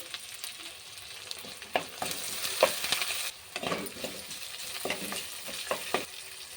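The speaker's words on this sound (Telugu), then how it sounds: "జీలకర్ర ఆవాలు ఆడుతుండగా వెల్లుల్లి రెబ్బలు కట్ చేసి వేసుకోవాలి అవి ఫ్రై అవుతున్నప్పుడు పచ్చిమిర్చి వేసుకోండి" Garlic cloves and green chillies frying in oil with cumin and mustard seeds, a close, continuous sizzle broken by the scrape of a stirring spoon against the pan throughout.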